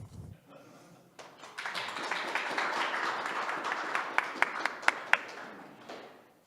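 Applause from a Toastmasters meeting audience swells after a quiet start and holds steady, with a few sharp individual claps near the end before it fades.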